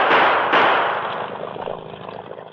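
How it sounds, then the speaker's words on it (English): Two sharp gunshot cracks ring out in quick succession in an old-time Yukon radio drama, each loud blast trailing off into a fading rumble, with no voices over them. "They're shooting at us. I'll use my gun."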